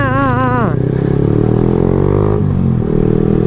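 A Yamaha R15M motorcycle with a misfiring exhaust runs close and loud, its engine tone sweeping down early on and then holding a steady, rough drone with some clattering throughout.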